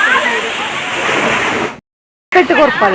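A cold waterfall visited on a college trip roars as a constant rushing wash under close talking, cut by a brief moment of silence before the voices and water return.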